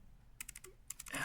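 Brief burst of computer keyboard typing, a quick run of several light keystrokes, a pause, then a few more, close and quiet.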